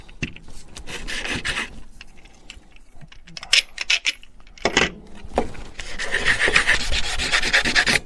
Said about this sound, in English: Hello, sandpaper.